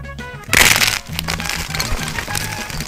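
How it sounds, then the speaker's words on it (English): A stick of chalk cracks and crumbles up close, a sharp loud snap followed by a gritty, crunchy breaking texture, with no speech over it. "That crumble sound was just perfect."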